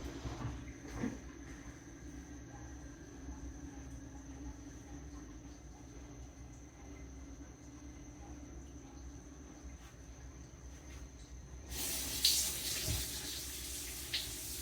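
Fresh herbs are rinsed under a running kitchen tap, a faint steady stream of water, with a louder splashing burst near the end as the flow hits the sink.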